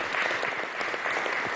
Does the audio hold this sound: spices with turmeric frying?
no